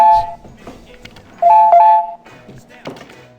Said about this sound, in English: And when the door opens, the alarm sounds.